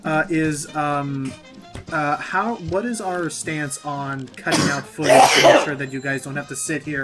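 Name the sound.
sneeze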